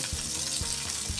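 Garlic cloves, onion, bay leaf and chillies frying in hot oil in a pan, a steady close crackling sizzle with faint soft knocks, quiet and continuous.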